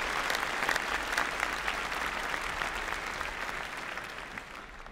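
Sustained audience applause for postgraduate graduates at a university graduation ceremony, a dense, even patter of many hands filling a hall and slowly tapering off near the end.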